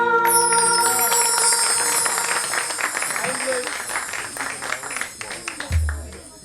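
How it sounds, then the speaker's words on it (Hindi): An audience applauds a singer at a live stage show as the last sustained music notes fade out. The clapping rises into a dense, steady patter and then dies away. "बहुत जोरदार तालियां हमारे सिंगर के लिए"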